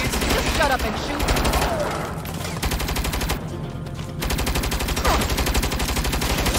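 Sustained automatic gunfire from guns in Saints Row rattles on loudly for the whole stretch, dense rapid bursts with a brief thinner patch midway, over a steady game soundscape.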